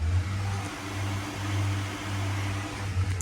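Electric oil cooler fans on a Mazda RX-7 running in a garage, giving a steady low motor hum and airy whoosh at moderate level, with no talking.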